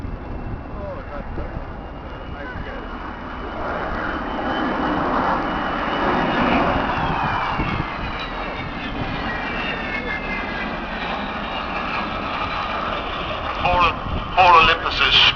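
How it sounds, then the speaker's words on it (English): Rolls-Royce Olympus jet engines of an Avro Vulcan bomber whine and roar at the Air Tattoo airshow, the pitch slowly falling as they spool down, with someone talking over the engine noise. "All Olympus is spooling down there as they take the power off"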